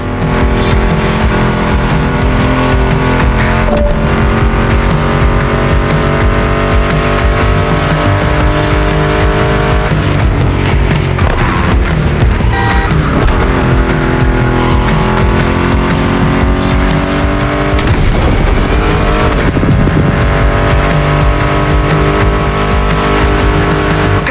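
Loud, continuous roaring muscle car engines, including a Mustang GT, in The Crew Motorfest rev and whine through gear changes, with brief tire squeals, all packed densely together without pause.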